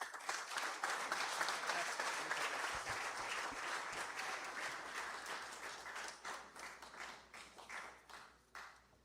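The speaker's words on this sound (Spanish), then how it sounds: "lo recibimos también con fuertes palmas" Strong applause from an audience at an honorary doctorate ceremony as a guest approaches the podium, many hands clapping densely and loudly, then thinning into more separate claps toward the end.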